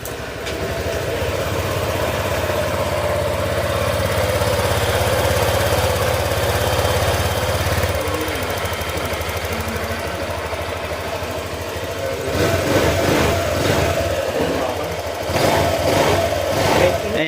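A motorcycle engine idles steadily while warming up after an oil change and bearing work, with a continuous low rumble throughout and slightly busier mechanical clatter toward the end.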